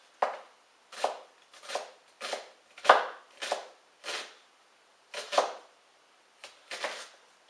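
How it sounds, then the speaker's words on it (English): Knife chopping an onion on a cutting board, around ten sharp, evenly spaced cuts close up with no talking. "even cuts along the onion longitudinally, and then cut across it latitudinally"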